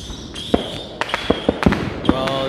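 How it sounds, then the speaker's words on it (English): Fireworks bursting near a lake, a series of sharp booms and crackles spread over a couple of seconds, some close and loud, others fainter, with a steady hiss of background noise between them. "They got fireworks everywhere."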